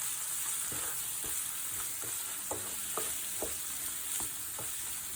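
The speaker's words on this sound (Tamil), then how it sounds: "இது இந்த எண்ணெயிலே கொஞ்சம் நல்லா வதங்கணுங்க" Roasted varuval masala powder fries in oil for chicken varuval, giving a steady close sizzle broken by soft scraping strokes of stirring at an even rhythm.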